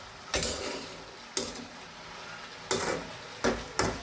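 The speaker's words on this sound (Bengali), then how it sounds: "এখন আজকে যে ভাজি করতেছি আলু দিয়ে" Potato and sweet pumpkin flower bhaji being stirred in a pan, heard as four sharp scraping clatters of a spatula against metal, spaced unevenly over a soft background hiss, close and alone with no talking.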